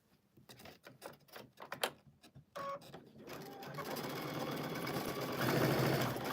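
Sewing machine starting up after a few separate clicks and taps, then running continuously with a fast, even mechanical whir that grows slightly louder toward the end while quilting.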